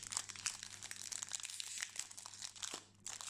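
Crinkly plastic wrapping of a Pokémon card tripack being torn and opened, a steady close, quiet run of crumpling and rustling with no voices.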